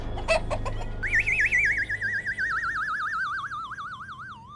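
A woman imitates an old hen with a quick run of short clucks, followed by a long, loud warbling tone that wavers up and down.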